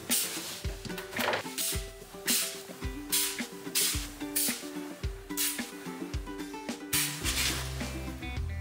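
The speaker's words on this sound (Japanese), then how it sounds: "今日はこちらの匂いノンのスプレータイプを使ってお部屋の消臭をしていきたいと思います。" Nioi Non deodorizing spray is sprayed around a room in a series of short hissing bursts, roughly one per second, over light background music.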